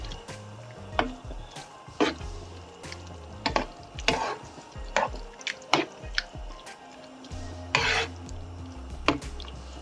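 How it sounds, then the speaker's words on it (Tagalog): A spoon stirring cream in a cooking pot, with irregular scraping clinks and wet squishing sounds against the metal over a low background hum, fairly close and without talking. "Tapos, haluin natin."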